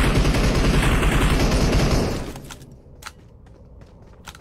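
Dense automatic gunfire in the mobile battle-royale game PUBG Mobile fills the first two seconds with a loud, continuous fusillade, then drops away to quieter ambience with a few isolated sharp reports.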